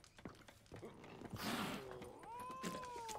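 A cat meows in a video game, a drawn-out wavering cry rising and sliding late in the clip, heard over clip-clop footsteps and background game sounds.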